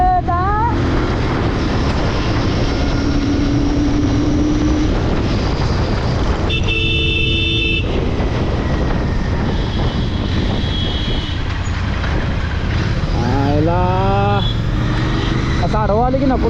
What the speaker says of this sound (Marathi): आता बघा काय गाडी कशी पळते